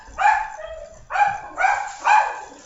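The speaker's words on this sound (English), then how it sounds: "Hopefully my dog doesn't drive you guys crazy. She's going to bark like nuts if that's the UPS guy." Pet dog barking at the front door as a delivery arrives indoors, four sharp barks, one then a quick run of three, close and loud with quiet gaps between.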